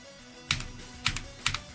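Keys on an RGB computer keyboard are struck in three quick bursts of clacky typing, close and crisp, with near silence between them.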